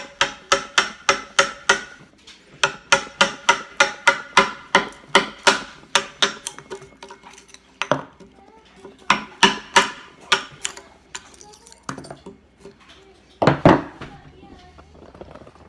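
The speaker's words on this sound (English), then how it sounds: "these are just construction chisels. I don't have any special carving tools" A hammer drives a construction chisel into the wood of an Indian coastal canoe hull, sharp rapid blows in quick rhythmic runs separated by brief pauses, close and loud, with a few scattered heavier knocks near the end.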